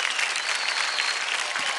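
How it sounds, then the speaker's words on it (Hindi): Loud, dense applause fills a TV dance competition stage, a steady wash of clapping from the studio audience with no break. "जोरदार ताली हो जाए"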